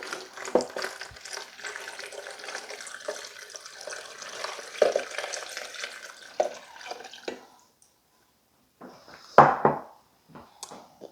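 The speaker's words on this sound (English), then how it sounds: "All right, and to that, we're going to add 4 cups of water." Water being added for Spanish rice: a soft, continuous pour and splash runs for several seconds, then stops, followed by a few brief louder splashes and clinks.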